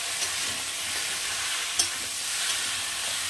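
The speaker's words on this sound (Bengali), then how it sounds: "এই সব কিছু দিয়ে ভালো করে মাংসটার সাথে মিশিয়ে নিতে হবে" Chicken meat being stirred with spices and salt in a hot pan: a steady close sizzle with soft scraping stirs and one sharp clink of the utensil partway through.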